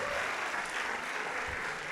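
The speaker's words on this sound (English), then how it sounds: "Merci de m'applaudir comme ça" Audience applause at a Cannes 2022 event, a soft, steady patter of clapping heard from a distance.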